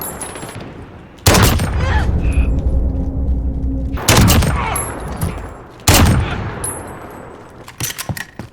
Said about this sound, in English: Okay, so here we go with the sniper rifles. The first one you have is the Dragunov.